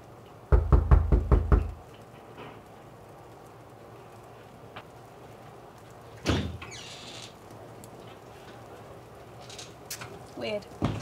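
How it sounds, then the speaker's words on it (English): Several quick, loud knocks on a door in a fast burst near the start, followed by quieter background sounds and a brief sliding or rustling noise later. "There is a sudden knock at the door."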